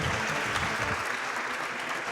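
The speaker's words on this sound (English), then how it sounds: "I'll wait for the applause" A speedrun event audience applauds in a dense, steady wash of clapping that holds evenly throughout, loud and enveloping with no voices over it.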